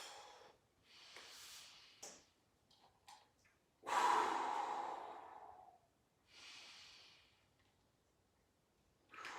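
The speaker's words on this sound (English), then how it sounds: "In through the nose," Slow, deliberate breaths during a yoga-style breathing exercise: several airy inhales through the nose and longer, louder exhales through the mouth, close and clear with quiet gaps between them, no talking.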